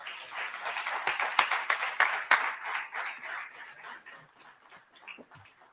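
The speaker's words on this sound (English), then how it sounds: "Let's give him a round of applause." Audience applause at an evening community celebration gala as the board chair is welcomed to the stage, a broad wash of clapping that swells in the first two seconds, then thins and fades, with a few cheers mixed in.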